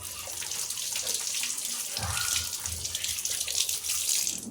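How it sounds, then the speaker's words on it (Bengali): Tap water runs steadily over a hilsa fish being washed in a kitchen sink, making a continuous close splashing rush that carries on without pause and with no talking. "ধুয়ে নিই ইলিশ মাছটা।"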